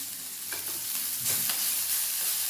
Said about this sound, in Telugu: చూడండి, మెంతాకు కూడా ఫ్రై చేసేసుకున్నాను.